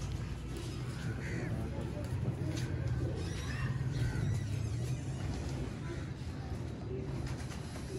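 Sialkoti pigeons kept on a rooftop coo softly amid other bird calls and faint traffic, a low murmuring bed of sound with someone talking over it.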